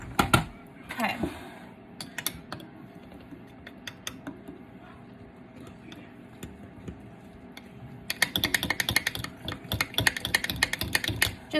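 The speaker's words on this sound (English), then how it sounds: "Just give it a real good stir." Spoon stirring a flour mixture inside a jar, a run of quick scraping, clicking strokes that grows busier and louder toward the end, with quieter handling noise before it.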